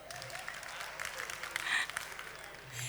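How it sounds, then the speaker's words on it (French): An audience at a comedy show claps in a short, moderate round of applause with some crowd murmur and brief voices mixed in. "Applaudissez pour vous-même."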